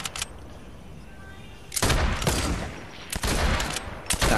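Rapid bursts of SMG fire in a video game crackle loudly in two or three dense volleys, separated by brief gaps, with no talking over them.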